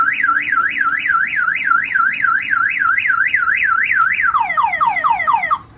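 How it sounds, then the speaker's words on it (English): A loud Jeep Wrangler car alarm wails in a rapid repeating up-down siren, then switches to a faster descending chirp pattern before cutting off. "the alarm will fire off, okay?"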